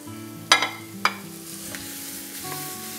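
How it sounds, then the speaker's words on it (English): Minced meat added to a frying pan of softened onion: two sharp clatters of the pan, then a steady close sizzle that continues alone. "So when the onion has started to soften, I'm going to add the mince to the pan."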